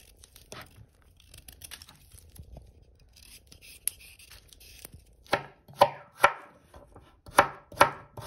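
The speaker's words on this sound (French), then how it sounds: "on coupe en rondelles les carottes" Carrots are sliced into rounds with a knife while preparing boeuf bourguignon. Soft handling noises come first, then sharp, close knife chops land on a board, spaced irregularly and growing louder toward the end, with no talking.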